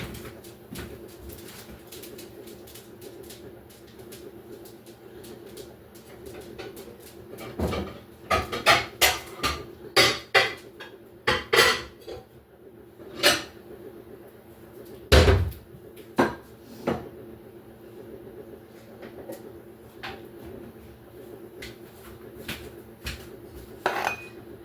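Cinnamon rolls are set into baking pans and a pie pan, with scattered metallic clanks and clatters of pans and utensils, loud and close, bursting in clusters between quieter stretches.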